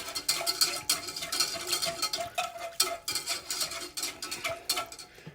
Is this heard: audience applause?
no